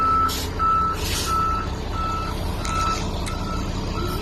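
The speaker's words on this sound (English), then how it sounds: "There goes our bus right now." A bus, heard as a loud heavy vehicle at a street stop beside a curb drop-off, rumbles close by while a backup alarm beeps in a steady repeating pattern.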